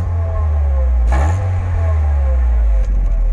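A VW Passat B3 (1988-1993) engine with 278,661 km on it idles steadily at close range, with a low, constant exhaust drone, a brief rev near the one-second mark and a small knock toward the end.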